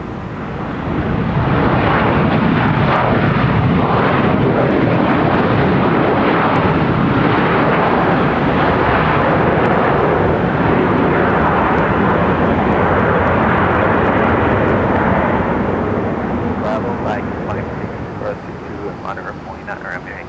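A jet airliner takes off from Minneapolis–St. Paul airport with a loud, sustained roar that holds for about fifteen seconds before slowly fading, while voices are heard alongside.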